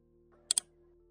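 Two quick computer keyboard key presses in close succession, crisp and near, over a faint steady electrical hum in an otherwise quiet room.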